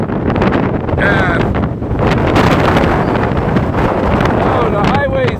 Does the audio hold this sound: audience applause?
no